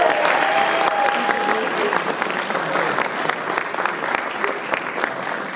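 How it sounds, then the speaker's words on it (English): An audience at a high school college signing day event breaks into sustained applause, dense clapping from a crowd filling the room steadily from start to finish. "Let's give her a round of applause."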